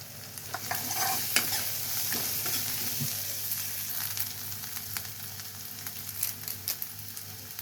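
Onions sauté in a pan for a mudakatran kuzhambu with asafoetida, sizzling steadily while a spoon scrapes and stirs in close, irregular strokes; no voices.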